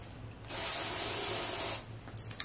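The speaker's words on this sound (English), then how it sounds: "Right now I am obsessed with this Dove Advanced Care Spray." A can of Dove Advanced Care deodorant spray lets out one steady hiss lasting over a second, loud and close, with quiet room sound before and after.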